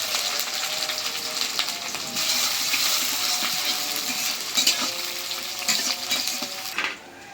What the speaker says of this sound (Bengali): এখন দিয়ে দিই পেঁয়াজ, কাঁচামরিচ,